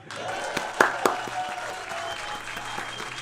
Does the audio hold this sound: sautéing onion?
no